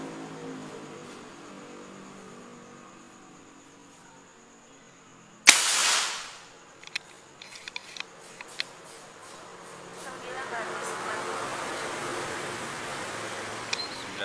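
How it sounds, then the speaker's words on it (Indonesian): A single sharp air rifle shot from a Velocity Buru Taktikal firing a 13-grain X-Slug pellet, loud and close, with a short ringing tail, then a few faint clicks and quiet outdoor background. "Tembakan ketiga."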